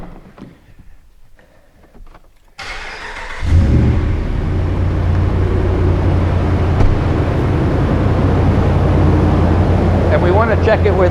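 A car engine cranks and catches after a quiet stretch with faint handling noises, then settles into a steady, loud, close idle with a low rumble that continues to the end.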